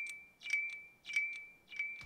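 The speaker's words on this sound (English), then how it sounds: "just a dub ping pong effect." A dub ping-pong echo built in Ableton's Echo: a steady high tone with short clicky bursts that repeat three times in an even rhythm, each return slightly softer, alone and fairly quiet.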